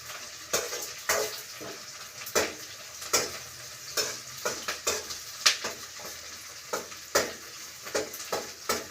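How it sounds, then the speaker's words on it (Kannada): Tempering spices sizzle and spatter in hot oil in a pan, with repeated sharp crackling bursts and stirring clatter at an uneven rhythm, close and fairly loud, with no talking. "ಒಗ್ಗರಣೆ ಹಾಕ್ತಾಯಿದ್ದೀವಿ"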